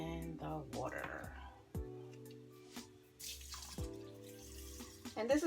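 Water pours into rice in a pressure cooker while Spanish rice with chicken and turkey sausages is being made, a close running splash heard beneath steady talking.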